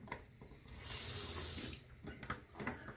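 Cold tap water runs into a sink after a shave, a steady broadband rush that swells for about a second in the middle of the clip, then breaks into splashing and intermittent gushes, close by with no talking.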